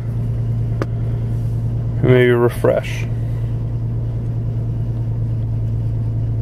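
A car engine idles steadily after being started, a constant low hum under the whole stretch, while someone speaks briefly near the middle.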